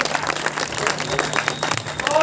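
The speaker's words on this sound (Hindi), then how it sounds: "दोनों शिष्यों के लिए आप एक बार जोरदार ताली" Brief, moderately loud clapping from an audience at an Indian gathering, a quick patter of hands that swells slightly toward the end.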